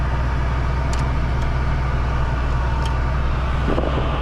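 A 1974 Ford Maverick's engine running in a steady, loud, low idle rumble with no talking over it.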